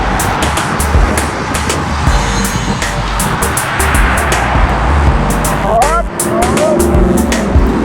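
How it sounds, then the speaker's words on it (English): Road traffic passing during a group bicycle ride, a steady rumble of cars with wind noise and clattering, while a voice talks over it. "So there's cars coming"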